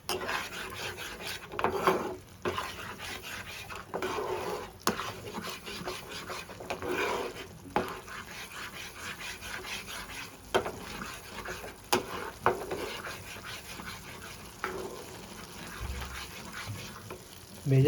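Spices and chilli powder sizzle and rasp in a pan for a coriander fish curry, with steady frying crackle and intermittent scraping stirs, fairly close and moderately quiet.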